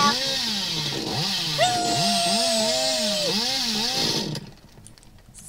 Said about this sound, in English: Get our chainsaw!